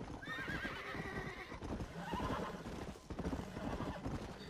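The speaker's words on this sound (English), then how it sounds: "Yeah, go faster, horses!" In the video game Red Dead Redemption, horses gallop with rapid clip-clop hoofbeats while one neighs in rising, wavering whinnies, the galloping rhythm steady and close throughout.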